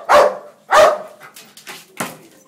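A police drug detection dog barks loudly and close by, giving two strong barks followed by several softer yips and a final bark.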